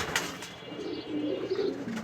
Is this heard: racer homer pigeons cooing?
yes